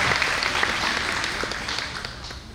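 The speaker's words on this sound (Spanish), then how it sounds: "un aplauso para ustedes que vinieron muy temprano" Congregation applause during a Catholic church service, a continuous wash of many hands clapping at moderate volume, slowly fading toward the end.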